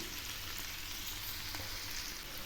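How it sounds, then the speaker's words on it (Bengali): Onions, green chili and vegetables frying in a pan for mourola fish bhaja chachchari, giving a steady, close crackling sizzle that holds at an even level throughout. "পেঁয়াজগুলো একটু হালকা করে ভেজে নেব।"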